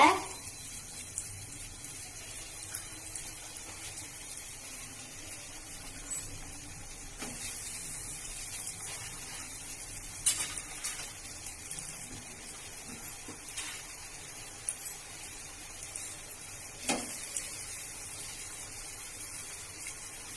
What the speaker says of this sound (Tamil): இப்ப எங்க அம்மா வந்து ஒரு பால்ஸும் நல்லா பொரிச்சு எடுத்துக்கிறாங்க.